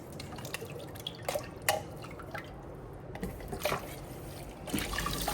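Water trickles and drips over canned beans as they get rinsed, a light, uneven patter of droplets and brief splashes rising and falling at close range, with no voices.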